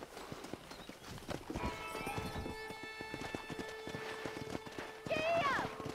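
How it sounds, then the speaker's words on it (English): Horses' hooves clip-clop in an uneven trot in the video game Red Dead Redemption, with a sharp whinny rising near the end, as voices talk over the ranch scene. "Let's see if we can't wrangle some horses."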